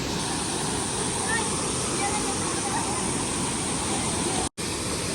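Nakhal waterfall in Kawant, swollen by monsoon rain, roars as a loud, constant wash of falling water that drowns out everything, cut by one brief dropout near the end.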